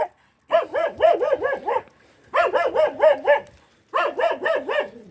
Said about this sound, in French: un chien qui nous aboie dessus